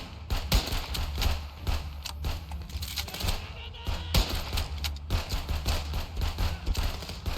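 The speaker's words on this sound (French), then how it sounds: "Il a bien tiré le fou." Gunfire in the police border-checkpoint game Contraband Police, rapid repeated sharp shots in a quick irregular rhythm over a low steady background rumble.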